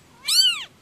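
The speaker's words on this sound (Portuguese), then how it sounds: "Olha, ai, como mia." A kitten gives one clear, rising-and-falling meow, close and loud, with nothing else around it.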